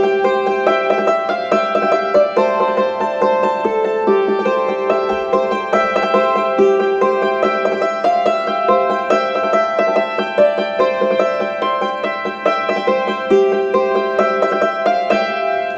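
A hammered dulcimer rings out under quick rat-a-tat hammer strokes, bright struck strings repeating in rapid rhythmic clusters over a sustained shimmering wash, loud and close with no talking.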